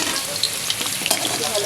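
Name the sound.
potatoes frying in oil in a wok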